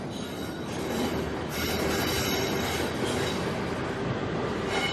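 A regional train in Berlin rumbles steadily along the tracks with wheel clatter and a faint metallic squeal, continuous and fairly close, no voices.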